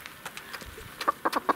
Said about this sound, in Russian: Вот это тоже крупная курица.